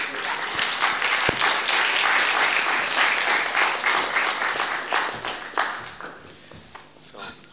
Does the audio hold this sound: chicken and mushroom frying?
no